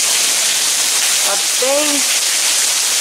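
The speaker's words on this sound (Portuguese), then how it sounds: "Tá chovendo muito, muito, muito, muito mesmo, gente." Heavy rain pours steadily and loudly throughout in Fornos, Macieira de Dão, Portugal, a dense continuous hiss, while a person speaks briefly in the middle.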